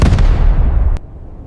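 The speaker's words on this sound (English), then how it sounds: "When the cannon thundered again" Cannon firing sound effect, a single loud booming blast that rolls and decays, then cuts off abruptly.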